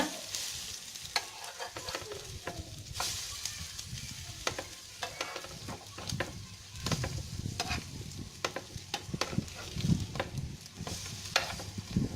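Spicy masala bread toast fries on a pan and is flipped, with a continuous close sizzle broken by repeated sharp spatula scrapes and taps at uneven intervals. No one speaks.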